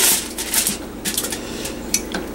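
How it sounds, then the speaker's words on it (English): Metal lid set onto a cooking pot covered with tin foil for pot roast, giving a few light clanks and clinks of metal on metal, close by and moderately loud, with no voice. "Put the lid on it."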